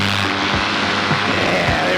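A powered paraglider's engine roaring at full throttle during a takeoff run on a new wing, loud and close, with a steady dense propeller drone that dips briefly a few times.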